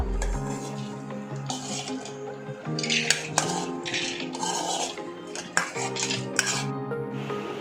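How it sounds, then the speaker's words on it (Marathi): Cooked dal being poured and scraped into a pressure cooker pot, with repeated metallic clinks and scraping of a spoon against the steel vessel, close and fairly loud, with no talking. "आता डाळ आहे ना आपण ह्या कुकरच्या भांड्यामध्ये टाकून घेऊया सर्व"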